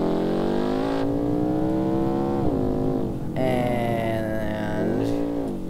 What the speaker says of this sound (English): So essentially, this is what launch control would look like.